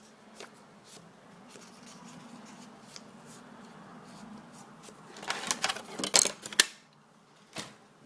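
Paper is scored along a measured line at a crafting desk while making a mini magazine holder, giving short, light scraping strokes close by that grow busier and louder toward the end.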